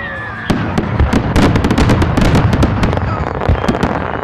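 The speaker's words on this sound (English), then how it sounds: "the town of Pahrump held their fireworks show at Petrick Park" A town fireworks show at Petrick Park in Pahrump goes off loud and close, with dense crackling bursts and sharp pops packed together and overlapping across the whole stretch.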